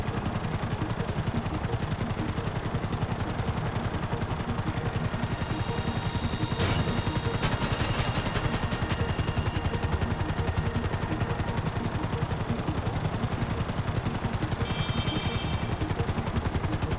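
Rapid gunfire in GTA V rattles continuously alongside a constant whirring, helicopter-like drone, with sharp bursts of shots standing out midway and again near the end.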